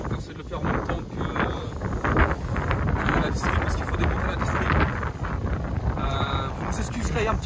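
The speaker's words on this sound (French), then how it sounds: "Un petit peu de vent, hein." Outdoor wind buffets the microphone during a walkaround of an Alfa Romeo 147 JTD, a loud, unsteady broadband rush with gusts and a voice heard intermittently.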